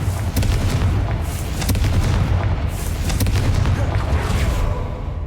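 Confringo blasting spell cast in Hogwarts Legacy, a series of loud booming explosive bursts with crackling debris over a dense rumbling background, close and forceful.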